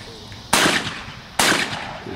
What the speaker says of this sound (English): Here we have Mr. Rusty Hyde and David Hebert shooting off for Gun Champ and runner-up.